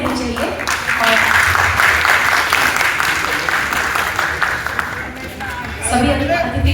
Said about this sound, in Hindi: कृपया तालियों की जो गड़गड़ाहट है वो रुकनी नहीं चाहिए।